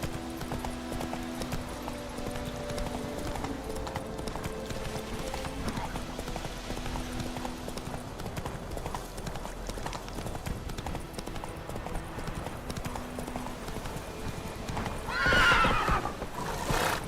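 A horse gallops in The Witcher 3 video game, its hooves clip-clopping steadily under game ambience, followed by a brief whinny near the end.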